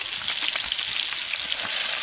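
Fish sizzles steadily in a well-heated pan, a dense, even crackle of hot oil with small pops throughout, close and fairly loud, no voices.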